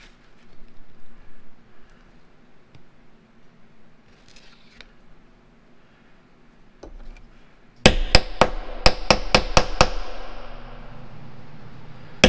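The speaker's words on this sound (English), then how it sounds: "Let me go check this punch on the bolt for that fuel pump." A hammer strikes a punch against the bolt of a diaphragm fuel pump on an antique Kohler generator, giving about eight sharp, loud, rapid metallic blows after a stretch of quiet workshop background.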